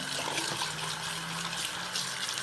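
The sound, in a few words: warm water running while rinsing breast pump part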